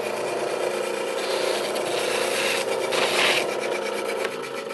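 A sanding drum on a drill press grinding against wood, a continuous close rasping rub that holds steady throughout with slight swells in intensity.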